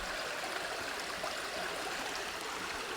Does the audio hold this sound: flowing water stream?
yes